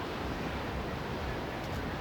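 Surf rolls in at Kuta beach in Bali: a steady, broadband wash of waves mixed with wind noise on the microphone, continuous and fairly loud, with no clear voices.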